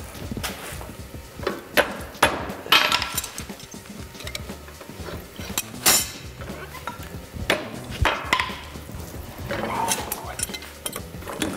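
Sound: hammering chainmail rings on an anvil

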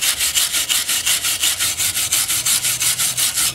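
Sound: wire brush scrubbing a Dodge brake caliper

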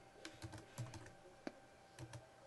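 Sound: typing on a computer keyboard

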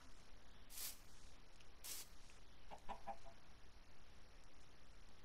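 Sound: baby chicken clucking in Minecraft video game

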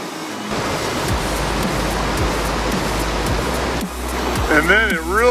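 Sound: mountain bike crossing a deep creek

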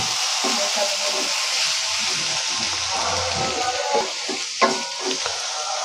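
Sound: spices frying with onions in a kadai

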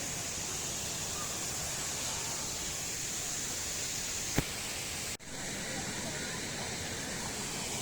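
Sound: waterfall roaring

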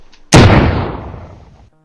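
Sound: shooting in Hand Simulator video game

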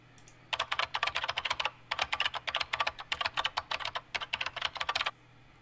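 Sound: typing on a computer keyboard, call center background audio

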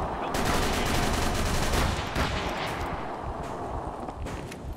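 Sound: rifle gunfire on a boat in Call of Cthulhu video game

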